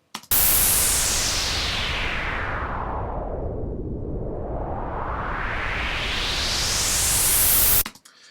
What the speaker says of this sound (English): how you can make white noise to make this sound